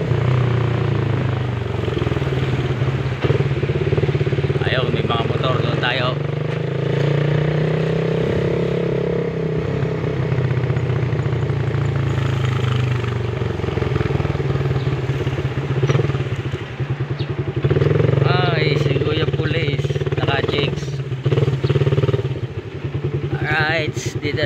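Motorcycle engines idle and rumble at the Lucena Grand Terminal parking area, a steady close drone with shifting pitch and passing revs, while someone talks over the noise.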